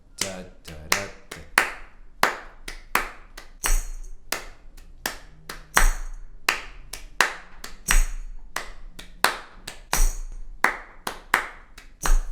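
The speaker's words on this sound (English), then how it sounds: "Clap it, and clapping is a way to get rhythms." Hands clap out a lively slip jig rhythm, crisp close claps grouped in repeating triple patterns with strong accented beats, heard alone without talk.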